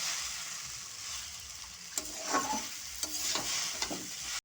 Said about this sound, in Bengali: ভালো করে এখন ভাজা হবে